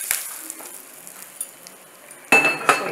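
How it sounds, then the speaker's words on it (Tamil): Curry leaves dropped into hot oil with mustard seeds and urad dal give a faint steady sizzle, with scattered light clinks. Near the end come two loud, sharp crackling bursts, close by and with no talk. "இப்போ கொஞ்சம் கருவேப்பிலை போட்டுடலாம்."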